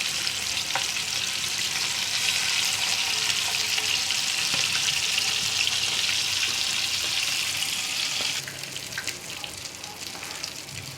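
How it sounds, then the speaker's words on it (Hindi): Peshawari chapli kebabs of minced meat fry in a pan on the stove, a loud, continuous oily sizzle that fills the whole stretch and eases slightly near the end. "कबाब हमारे फ्राई हो चुके थे, हम उनको निकाल लेते हैं ना, उतार लेते हैं चूल्हे से।"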